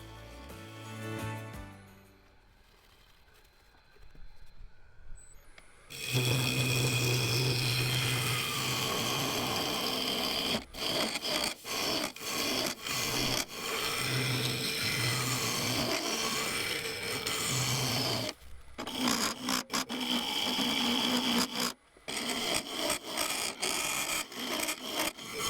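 A wood lathe turns a crackle-effect vase under a large negative rake carbide tool, giving a loud, continuous rasping screech with ringing resonant tones and a few brief cutoffs where the cut stops.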